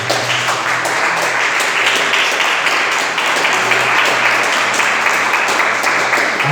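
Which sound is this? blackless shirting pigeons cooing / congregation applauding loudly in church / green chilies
congregation applauding loudly in church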